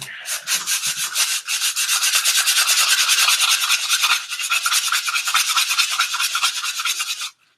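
Close, brisk rhythmic scrubbing of sandpaper on thick wooden wands, dozens of quick strokes in a steady run that briefly dips midway, no talking.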